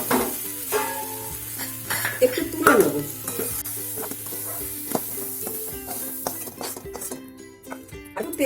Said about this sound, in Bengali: গ্যাসটা একটু কমিয়ে দিয়ে আস্তে আস্তে 10 মিনিট ভাজবো